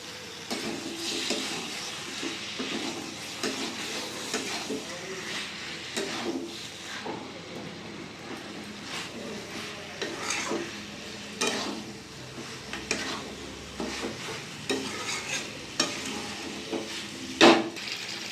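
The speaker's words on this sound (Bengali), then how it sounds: "ভালো করে চিকেনটা আমি মশলার সাথে কষিয়ে নেব।" Chicken sautéing and being stirred with spices and salt in a pan, a steady low sizzle with intermittent scraping and clinks of a spoon against the pot throughout, moderately close with no talking.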